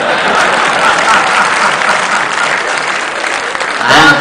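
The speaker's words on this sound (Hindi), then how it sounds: "और ताली आप लोगों की" Audience applause at a Hindi poetry gathering (kavi sammelan), dense sustained clapping from a large crowd that holds steady and swells slightly near the end.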